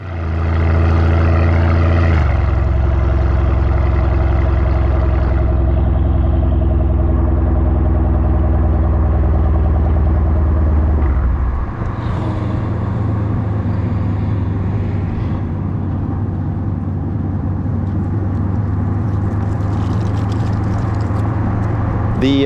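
Novitec-exhausted Lamborghini Urus SE hybrid V8 SUV with flap-actuated rear sport mufflers drones steadily and loudly up close, its deep engine tone shifting midway as the car pulls off and keeps driving.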